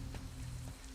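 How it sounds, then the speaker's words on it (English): Steady rain patters softly and evenly in the game Marvel's Midnight Suns, a faint continuous hiss of drops over a low hum, with no voices. "It's raining, so it's a little bit different weather than we've seen for a while."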